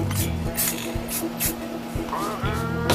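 Rattle-can spray paint goes on in short light coats over drum cymbals for a DIY electronic drum kit, with several quick hissing bursts separated by brief pauses, close by and moderately loud.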